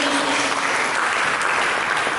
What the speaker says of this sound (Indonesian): Mari kita berikan tepuk tangan yang mulia bagi Yesus.